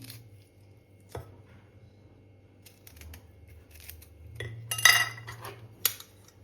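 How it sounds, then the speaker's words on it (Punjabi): Knife cutting through a lemon on a kitchen surface, with a few soft taps and cuts followed by a brighter, louder slicing burst near the end, close and fairly quiet with no talk. "ਇਹਦੇ ਵਿੱਚ ਤੋਂ ਨਿੰਬੂ ਕੱਟ ਕੇ ਤਿਆਰ ਕਰਾਂਗੇ ਅਸੀਂ"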